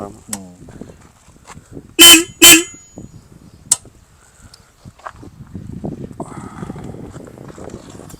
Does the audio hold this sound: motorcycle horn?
yes